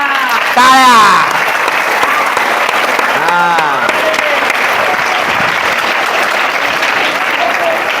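A school audience at a Mahatma Jyotiba Phule death anniversary event claps in a steady, dense, loud wash that lasts throughout, while a voice is briefly audible over it near the start and again in the middle.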